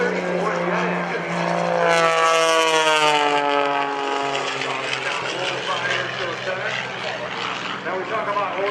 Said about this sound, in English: This is an S10 heavy modified Chevy pickup truck. That is equipped with a J34 jet engine.